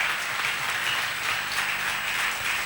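A church congregation applauds steadily throughout, a dense, continuous wash of clapping with no pauses and no audible voices.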